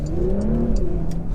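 A Porsche Macan S petrol SUV accelerates hard in first gear, its engine note loud and rising steadily from close range without any talk.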